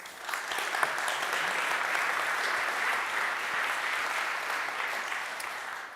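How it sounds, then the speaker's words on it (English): An audience at a tech stage event clapping for speakers as they join the stage, dense continuous applause from a sizeable crowd at an even level for the full duration, with no voices. "round of applause"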